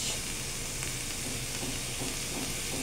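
Onions, with garlic and tomato, sauté in a pan for ginisang gulay, producing a dense, continuous close sizzle with faint stirring underneath.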